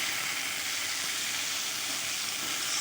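Tomatoes cooking in a pan for a flour gluten curry, giving a steady bright sizzle and hiss that continues evenly throughout, close and alone with no voices.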